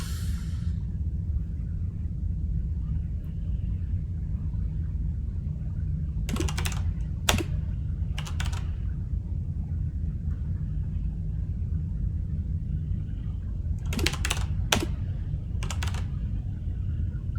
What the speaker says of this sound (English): I keep typing the wrong letters.